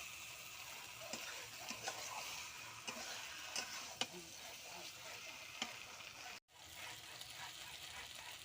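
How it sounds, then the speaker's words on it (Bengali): Chicken being stir-fried for kosha over a wood fire, a steady frying sizzle broken by scattered ticks and scrapes of stirring, continuous apart from one brief dropout. "এই যে মাংস কষাচ্ছি আমি কাঠের জালে"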